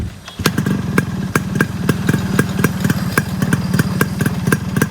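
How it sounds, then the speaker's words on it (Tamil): A tuned Japanese motorcycle engine idles close by with an even, thumping beat, each pulse evenly spaced and strong through several seconds, alone without voices. "இந்த வண்டியில வரக்கூடிய ஒரு பீட் வரும் பாத்தீங்களா, ஒரு செகண்டுக்கு ஒரு பீட், இந்த டங் டங்"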